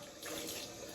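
Cold water runs steadily from a tap into a sink for washing, a short, even rushing stream with no talking.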